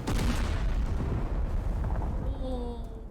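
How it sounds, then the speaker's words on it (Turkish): A big explosion in the destruction game Teardown, with a loud broadband boom and rumble filling the whole stretch, then fading into debris noise and faint tonal ringing near the end. "büyük bir patlama gerçekleşti"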